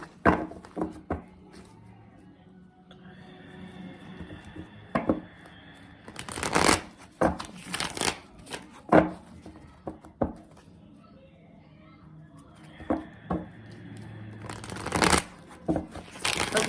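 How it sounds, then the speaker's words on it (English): Tarot cards are shuffled by hand in repeated bursts of crisp riffling and flicking, separated by quieter pauses, close to the microphone. "I'm going to get a good shuffle on the cards"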